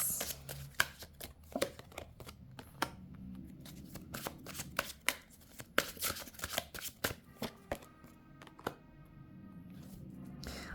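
Tarot cards shuffled and spread out by hand: a long run of crisp, irregular flicks and soft slaps, close and fairly quiet, with no talking.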